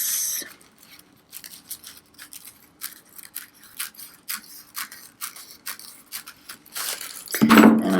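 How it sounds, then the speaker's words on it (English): Scissors snip through paper to trim off the excess, a series of short, crisp cuts at a steady rhythm close by, ending in a louder rustle of paper being handled. "Then we can take our scissors and trim off the excess"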